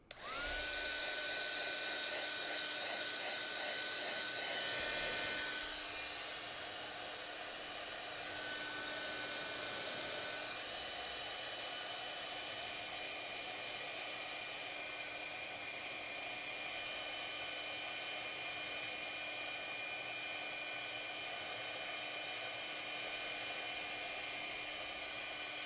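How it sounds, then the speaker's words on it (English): A heat gun runs steadily for about 25 seconds, melting embossing powder for heat embossing. It sounds like a loud, continuous whining blower hum, close up and alone with no talk. "we're gonna heat emboss this layer once again"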